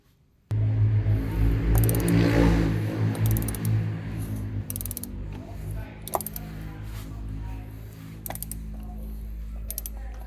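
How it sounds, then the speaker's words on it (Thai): An oil drain plug on a BMW Z4 E89 with an N52 engine is tightened to 25 Nm with a torque wrench. A steady low rumble runs under several sharp ratcheting clicks that come in short bursts. "จากนั้นก็หมุนเข้าไปด้วยมือก่อนนะครับ แล้วก็ไขด้วยประแจทองนะครับ25นิวตันนะครับ"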